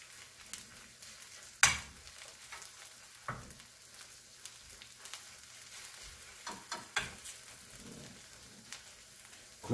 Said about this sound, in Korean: 다 볶겠습니다